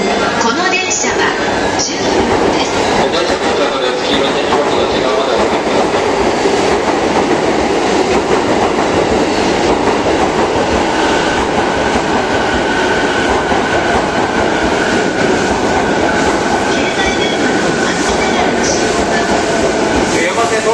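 A Saikyo Line commuter train bound for Shin-Kiba pulling into Shibuya station: a loud, continuous rumble and rattle of wheels and carriages runs throughout, with a platform announcement voice speaking over it.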